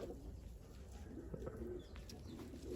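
Pigeons in a bird market cooing softly at a distance, low murmuring coos over a steady background hum, faint and continuous.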